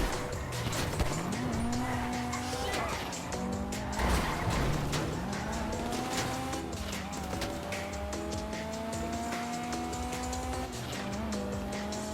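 Car driving in GTA V Online, an engine rising and falling through gear changes with repeated tire squeals and skids, fairly close and continuous.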